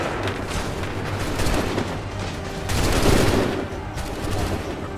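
Musket volley gunfire in Assassin's Creed 3, sustained crackling fusillade with heavy booming surges, one large volley swelling near the middle over dense continuous firing.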